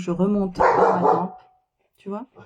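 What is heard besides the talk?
large dog barking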